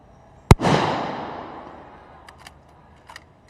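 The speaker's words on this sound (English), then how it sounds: "That's a good shot." A single sniper rifle shot fired from a tower balcony at a target about 300 meters away during a police SWAT challenge, a sharp loud crack followed by a long rolling echo that fades over two seconds.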